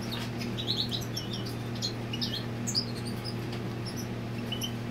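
A female goldfinch near its nest gives short, thin, high chirps scattered across a few seconds, faint and somewhat distant over a steady low background hum.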